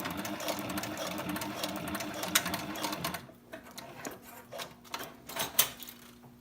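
A SEWPRO 441-PRO sewing machine stitches through tough Biothane strapping with a fast, steady mechanical chatter. It is close and loud for about three seconds, then changes to slower, irregular clunks and softer machine noise.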